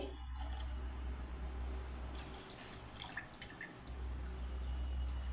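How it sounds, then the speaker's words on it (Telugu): Tamarind water being poured into a cooking pan while making Andhra-style pepper rasam, a steady close trickle and splash of liquid running throughout with a brief dip near the end. "ఇప్పుడు మనం తీసి పెట్టుకున్న చింతపండు వాటర్ని అయితే పోసుకోవాలి"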